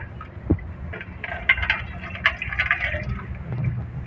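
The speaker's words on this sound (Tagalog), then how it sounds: "lagay tayo ng tubig" Water is poured into a container indoors, a soft splashing fill with scattered drips and small gurgles, fairly quiet and close, with no talking.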